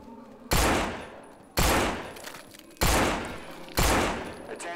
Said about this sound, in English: Attention, sniping with a pistol.